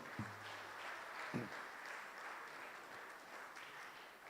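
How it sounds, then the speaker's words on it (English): A hall audience at an ISKCON Srila Prabhupada memorial festival in Phoenix applauds in a steady, fairly faint wash of clapping that continues for several seconds, with a couple of louder low thumps near the start. "I think that deserves another round of applause, much louder."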